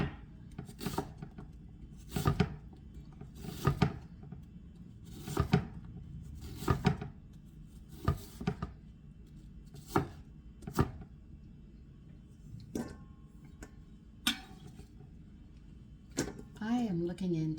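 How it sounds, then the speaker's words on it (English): A knife chops a red onion on a board in a kitchen, giving a slow, regular series of sharp, fairly close knocks about a second or more apart, with a little quiet activity near the end. "I'm starting to chop a red onion."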